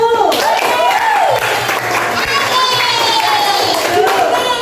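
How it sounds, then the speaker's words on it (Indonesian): Classroom applause for the first student group as they put up their poster, a busy mix of clapping and excited chatter that fills the room alongside shifting voices and a lively cheering tone throughout. "Tepuk tangan untuk kelompok 1."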